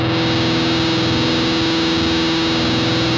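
A steady, buzzing guitar fuzz distortion tone through a Boss GX-100's send/return loop, held continuously, loud and saturated, with no playing changes or voices.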